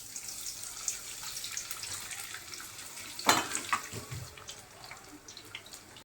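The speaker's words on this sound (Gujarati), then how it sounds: "એ જ રીતે હું બીજી પણ તળી લઉં" Potato peels fry in hot oil, a constant close crackling sizzle with a sharper burst of spattering midway, then settling back to a steady fry.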